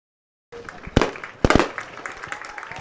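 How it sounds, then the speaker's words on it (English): Fireworks burst before a North Dakota high school football game, Hillsboro-Central Valley against Ellendale/Edgeley/Kulm, with several sharp loud cracks and bangs echoing over crowd noise outdoors. "as you see the fireworks going off in the background"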